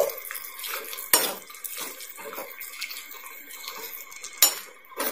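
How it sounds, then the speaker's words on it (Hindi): A spoon stirring a pea and guava vegetable curry in a pot after salt is added, with two sharp metallic clinks against the pot amid softer scraping and wet shuffling, close up and without talk. "नमक डाल के थोड़ा सा चलाएंगे इसे"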